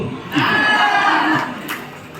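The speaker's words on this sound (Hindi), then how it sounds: "एक बार जबरदस्त तालियां गोविंद भैया के लिए" An audience at a motivational gathering breaks into a swell of applause and cheering that rises quickly, holds for about a second with some raised voices mixed in, then fades.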